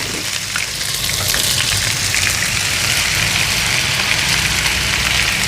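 Ginger garlic paste, about a tablespoon and a half, sizzles in hot oil for an achari daal tadka, giving a close, loud, continuous crackling hiss.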